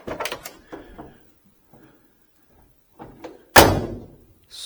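The door of a 1967 Chevrolet Impala SS is swung and shut with a solid, close metallic slam after a few lighter clicks and handle movements.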